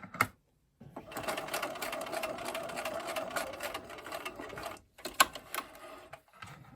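Domestic sewing machine running steadily for a few seconds as it stitches a fabric star, a continuous close mechanical whir with a brief pause and a short burst near the end.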